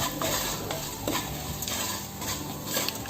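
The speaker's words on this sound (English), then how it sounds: "So I am adding 1 tablespoon of peppercorns, 1 tablespoon of cumin seeds. Let it get fried for a minute." Peppercorns and cumin seeds frying in a pan, a close, continuous crackling sizzle with a few metallic scrapes and light stirring clinks throughout, no voice present.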